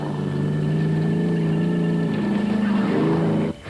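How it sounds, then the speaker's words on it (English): Racing cars, faster specials among production cars at the Rustenburg 200 held at Lichtenburg in 2007, roar past loudly on a straight with a steady engine drone and a slight pitch drop, then fall away abruptly near the end. "Some of the faster specials streaked past some of the production cars on the straights."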